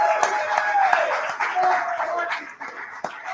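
A bar crowd at Hanrahan's claps and cheers for a live show, with scattered hand claps and a murmur of voices, moderately close and fading toward the end.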